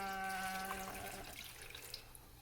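One and a half cups of water runs into a mixing bowl for hardtack dough, a close steady pour that fades out after about a second and a half.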